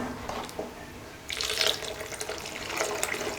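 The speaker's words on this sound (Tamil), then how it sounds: "இப்போ தேவையான அளவுக்கு தண்ணி ஊற்றிக்கலாம்." Water is poured into tomato kurma cooking in a pan, a close, brief splashing hiss that swells partway through, with no voices.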